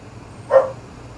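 One short, muffled dog bark sounds at a distance over a low room hum.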